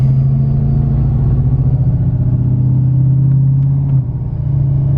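Ford F250 with a 6.7 Powerstroke diesel and a newly built turbo, pulling at full throttle in second gear: a loud, steady engine drone held close for several seconds, with a slight dip near the end.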